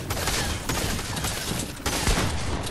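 Rapid bursts of gunfire from the Fortnite Box Fight Zone Wars game mode, dense and continuous for a few seconds with a sharper crack near the end, loud and busy without clear talk.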